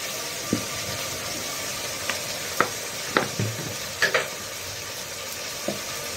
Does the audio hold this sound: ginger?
yes